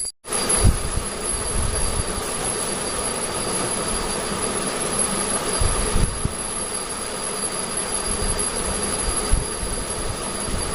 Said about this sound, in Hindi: क्योंकि पंखा चलता है तो आवाज़ साफ नहीं आती है।